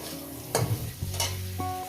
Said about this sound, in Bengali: আর নারকেল আছে দিয়ে দিয়ে ভালো করে সুন্দর করে আমি এটাকে